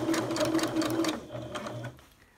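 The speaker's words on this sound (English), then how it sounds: "So as you sew up to the pin, you stretch the elastic to reach" A sewing machine runs in short zigzag bursts while stitching stretched elastic into swimwear, loud and close at first, then slowing and stopping into near silence.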